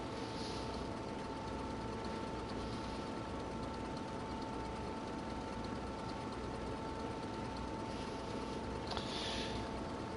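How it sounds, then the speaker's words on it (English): Turbocharged tractor engine idling in Farming Simulator 22, a steady, low, even rumble that holds constant throughout with no talking. "Those turbo tractors sound really nice."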